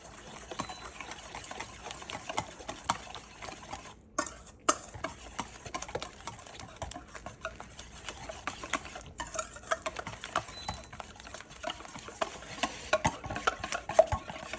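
Pork chop seasoning being mixed in a bowl: a continuous run of quick, light clicking and scraping strokes, close and fairly even in rhythm, with no talking.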